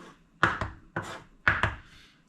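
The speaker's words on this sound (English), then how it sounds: "So now I'm cutting up my onions." Onions being chopped with a knife on a cutting board in a home kitchen, four quick paired strikes falling in a steady rhythm, close and clear, with no talk.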